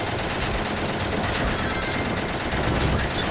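Rapid gunfire in the video game Shadow the Hedgehog, a dense, continuous burst of shots that stays loud and busy from start to finish.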